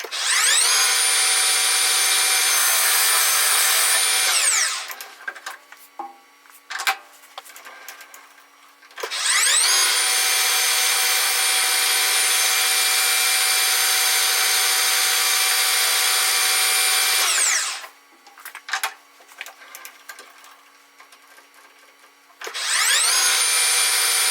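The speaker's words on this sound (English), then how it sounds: "I'm going to grab my tool and bevel that edge a little bit, and then we'll part it off the rest of the way" A lathe cuts and parts off a tap handle piece, with long, loud, steady cutting passes separated by short pauses filled with clicks and light tool contact.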